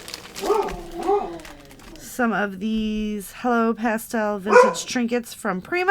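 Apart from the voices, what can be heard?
dog barking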